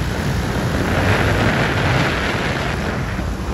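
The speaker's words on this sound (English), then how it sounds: "I don't know if you can hear me through the wind" Strong wind buffeting an outdoor microphone on an icy, snowy day, a loud continuous roaring rumble with no breaks.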